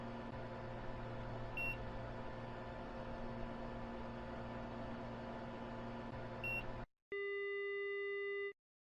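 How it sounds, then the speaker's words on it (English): A panoramic dental X-ray machine hums steadily with two short high beeps along the way, then falls silent as it halts before a longer, louder electronic tone sounds and stops. "Once the machine gets to a halt and the final beep sounds"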